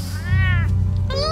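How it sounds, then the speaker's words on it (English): A cat meows twice in Batman: The Telltale Series, each call a clear, drawn-out, close cry with rising and falling pitch over a steady low game background hum, with a short gap between the two meows. "That's a nice cat."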